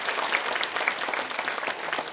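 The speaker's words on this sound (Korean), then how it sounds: "여러분 박수 한번 주시기 바랍니다" A concert audience applauds at a happiness-sharing event with a Buddhist monk, dense, even clapping from many hands that fills the whole stretch at moderate loudness with a few crisp claps poking out.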